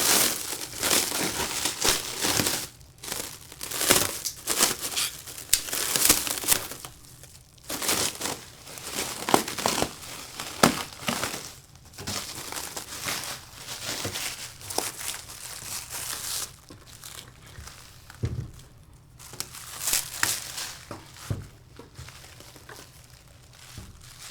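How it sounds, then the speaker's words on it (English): Plastic and paper packaging is unwrapped from a CraftPro mug and tumbler heat press, producing continuous close crinkling and crumpling with irregular louder rustles and tears over more than twenty seconds. "So we're just gonna unwrap this."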